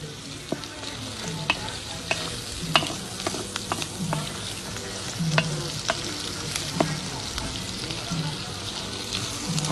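Onions and chorizo fry in a pan, a steady close sizzle with scattered crackles and pops and occasional stirring scrapes throughout.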